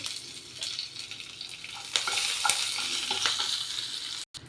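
Urad dal and dried red chillies frying in hot oil, a steady close crackling sizzle with occasional stirring scrapes.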